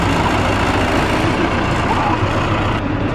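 Steady tractor engine pulling an orchard hay ride, a low continuous rumble close by and fairly loud throughout, with no clear talk over it.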